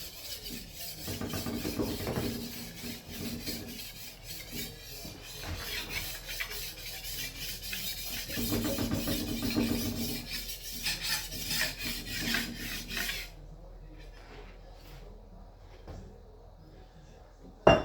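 A large paper machine knife is worked over with a rasping, grinding stroke in a steady rhythm, the scraping rising and falling in long passes before easing off into quieter scratches near the end.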